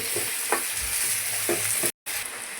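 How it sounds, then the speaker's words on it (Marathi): Onion and tomato sautéing together in a pan, a steady close sizzle broken by a few scraping stirs of the spoon, with a brief drop to silence near the end; no talking. "तर त्याला पण मस्त परतवू आणि मिक्स करून घेऊ दोन्ही पण, कांदा आणि टोमॅटो."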